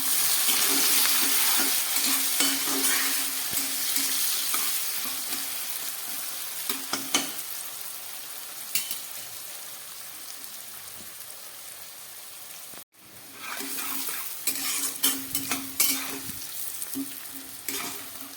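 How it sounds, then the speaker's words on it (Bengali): Sliced onions go into hot oil with bay leaves and whole garam masala, frying with a steady close sizzle and crackle, briefly interrupted, then returning with stirring. "ওই তেলের মধ্যেই আমি দিয়ে দিচ্ছি একটু গরম মশলা ফোড়ন, আর দিয়ে দিচ্ছি 2টো তেজপাতা, দিয়ে দিলাম কেটে রাখা পেঁয়াজ"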